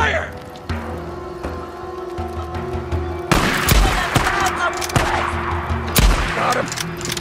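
Gunfire rings out in the PS4 game Days Gone: sporadic shots build into loud, dense bursts of rapid fire with heavy booms, mixed with shouting voices.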